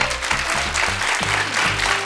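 Studio audience applauding on a Turkish television quiz show, a steady dense wash of clapping that fills the whole short stretch at even loudness.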